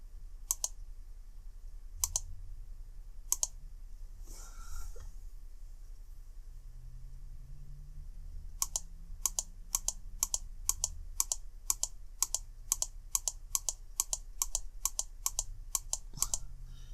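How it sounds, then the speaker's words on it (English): Computer mouse clicks in bursts, a few isolated clicks early, then a long rapid regular run of sharp, close clicks over a quiet background. "This does require a lot of clicking though"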